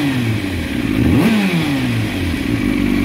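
A Yamaha sport motorcycle engine revs hard, pitch climbing and then dropping through gear changes as the bike passes, a loud, high, whining exhaust note with a brief dip around mid-way, heard alone.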